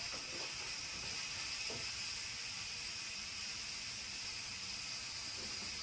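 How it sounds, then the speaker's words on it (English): An Instant Pot pressure cooker vents steam in a continuous, even hiss that stays fairly quiet and unbroken, with no one talking. "we got some steam. I was totally not ready for that to come out."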